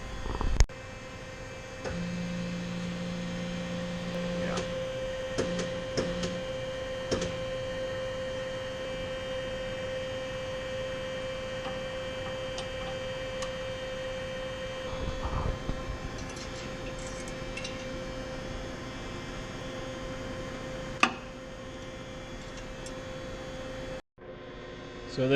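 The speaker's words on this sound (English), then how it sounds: "I've got the spindle running, and we're gonna run it down to the 0 on our Z-axis" A machining spindle boring the lower cylinder bore of a John Deere 6076 engine block, a steady hum with a constant tonal whine and occasional ticks and clunks, close and even throughout, no talk.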